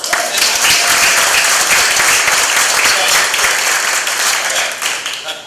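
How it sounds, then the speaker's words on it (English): A conference crowd at Hippo.Connect in Boston gives a loud, sustained round of applause that fills the whole stretch and fades slightly at the end. "Rousing round of applause."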